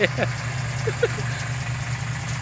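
A tractor engine idles with a steady low drone, close by, while people talk over it.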